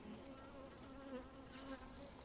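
A honeybee trembling as if agitated, after an oxalic acid spray, buzzes in a steady, faint drone alongside other bees, with no speech.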